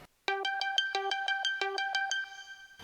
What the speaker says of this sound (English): It's a plug sound from Spire, and put an arpeggiator on it.